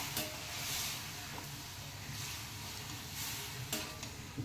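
Cooked taro leaves stirred into a mix in a pan, a soft steady sizzle with faint scraping strokes throughout, quiet and close, no talking.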